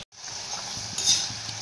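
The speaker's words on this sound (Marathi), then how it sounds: "एकदम क्रिस्पी असे आपण हे तळून घ्यायचं." Potatoes deep-fry in hot oil for a crispy chilli potato dish, giving a steady, close, bright sizzle with light crackling throughout, after a brief silent moment at the start.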